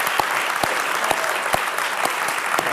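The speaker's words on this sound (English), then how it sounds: "So I think we should all clap Paul Draper." Audience applauding winemaker Paul Draper of Ridge Vineyards at a talk, a close, loud crowd clapping with a few sharp individual claps standing out at a steady rhythm.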